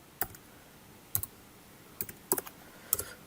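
Keys clicking on a computer keyboard as product details are entered into a Java program, arriving in four or five short bursts of quick taps separated by pauses; faint and close, with no talking.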